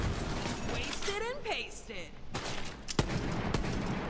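The Boom Sickle gun in Borderlands 3 fires rapid, punchy bursts of gunfire, with sharp cracks and explosive impacts under someone talking excitedly.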